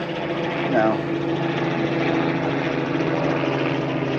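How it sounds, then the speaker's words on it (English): Aircraft pass overhead on a busy flight path, making a steady, loud engine drone that fills the whole stretch without a break. "There's so many aircraft going over"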